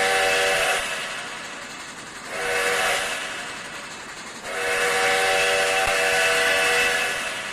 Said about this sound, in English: Really, the whistle should end when you're halfway across the intersection.